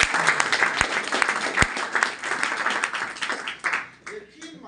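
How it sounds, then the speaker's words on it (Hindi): Audience applause for a motivational speaker at a talk, a dense sustained wash of clapping with a few sharp louder claps, fading toward the end, with some talk mixed in. "इनके लिए जबरदस्त तालियां"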